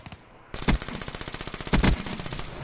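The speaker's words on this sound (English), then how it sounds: "I really need the Peacekeeper because I need a really good machine gun" The Peacekeeper machine gun in Call of Duty: Black Ops 3 fires a sustained rapid burst of sharp, evenly spaced shots with two heavier thumps partway through, loud and close with no talking.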